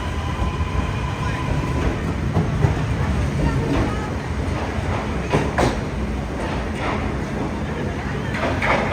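A departing Portuguese CP train bound for Aveiro rumbles steadily along in Porto during the Christmas season, a continuous loud rolling roar with faint street ambience and no clear talk.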